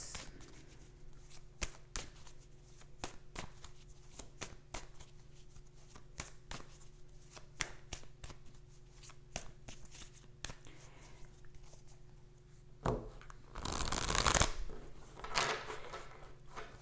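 Tarot cards are shuffled by hand in quiet, close bursts of crisp slaps and riffles, ending in a louder flurry of fast riffling near the end.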